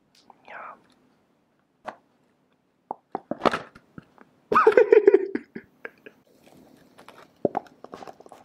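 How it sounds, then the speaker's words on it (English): Pringles prawn cocktail crisps, a packet opened and crisps bitten close up, sharp crunches and rustles in bursts with whispering between. "I would like to open a packet of crisps for your pleasure. Pringles prawn cocktail."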